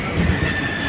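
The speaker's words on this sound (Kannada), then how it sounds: "ಮಂಗಳೂರಿಂದ ಬಂದ ಟ್ರೈನ್ ಹೊರಟಿತ್ತು" Train from Mangalore moving out of a station, with a brief steady rolling rumble and a sustained high wheel squeal, close and continuous.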